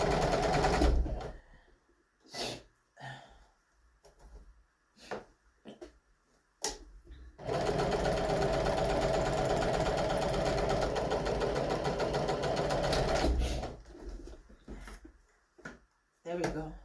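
A sewing machine top stitching a flat seam runs in one long, steady whir lasting several seconds, with a person speaking before and after it.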